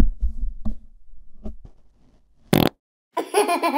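A short, loud fart bursts out after some quiet low sounds, followed by a pause and then laughter.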